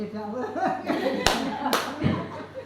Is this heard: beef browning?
no